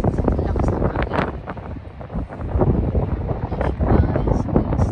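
Strong sea wind buffets the microphone on a cold, snowy coast with rough waves, a loud continuous gusting roar with rumbling bursts, and a person speaking under it.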